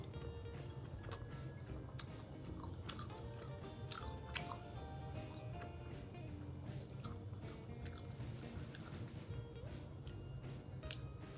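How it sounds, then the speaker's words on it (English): Close, wet chewing of mozzarella cheese tteokbokki, sticky rice cakes in sauce, with repeated squishy bites and small smacking sounds at a steady pace, quiet and intimate. "let's get eating on this mozzarella cheese tteokbokki"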